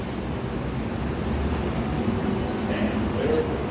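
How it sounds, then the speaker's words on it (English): A New York subway 7 local train bound for Flushing–Main Street sits at Queensboro Plaza, a steady loud rumble and hum of the train and station with a faint high whine, under an onboard announcement voice. "This is a Flushing Main Street bound 7 local train."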